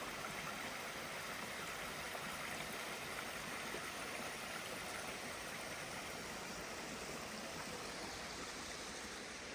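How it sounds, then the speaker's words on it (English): A stream of running water near a waterfall gives a faint, continuous broadband rush. It stays even and unbroken throughout with no other sounds. "The noise of the running water is so peaceful."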